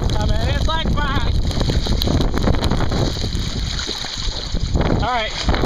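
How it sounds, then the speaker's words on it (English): A wind gust buffets a windsurfer on Lake Pocotopaug in East Hampton, Connecticut, roaring loudly against the microphone along with water and board noise, while a voice talks over it. "here comes another gust"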